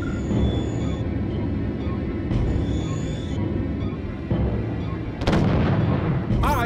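Ship cannons and torpedoes fire during a naval battle in the Treasure Planet video game, heavy booming shots and rumbling over a constant din, with a few sharp whooshing launches near the end.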